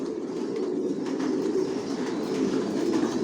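Racer pigeons coo inside a loft, a soft continuous murmur of overlapping low coos from several birds, steady and close, with no other sounds standing out.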